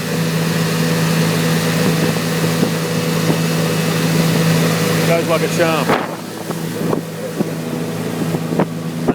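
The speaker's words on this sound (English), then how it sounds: "Little boat's cruising along like a beauty." A small motorboat cruises on Mandurah Estuary, its steady outboard drone close and loud with rushing wind across the mic, while someone talks over the engine noise.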